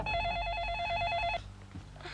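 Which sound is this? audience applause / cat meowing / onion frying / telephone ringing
telephone ringing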